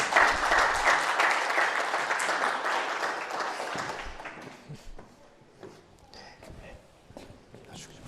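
An audience claps to welcome a professor to the stage at a lecture, strong applause that gradually thins out and is followed by footsteps and small movement sounds.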